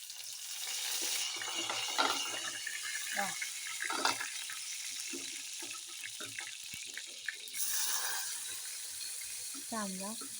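Curry leaves sizzle and crackle in hot oil in a loud burst, then settle, with clinking utensils and brief bubbling pops in between.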